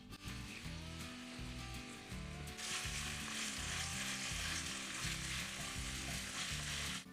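Sausage browning in a pan with a little chili pepper, a steady loud sizzle throughout that grows brighter and more intense partway through, with a low rhythmic musical backing underneath.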